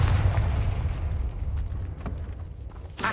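A Confringo fire-blast spell going off in the video game Hogwarts Legacy: a deep, rumbling explosion booms at the start and rolls away over a few seconds, with a small burst at the end.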